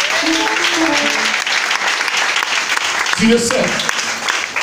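Church congregation applauding loudly and steadily throughout, a dense wash of clapping with a preacher's voice speaking over it.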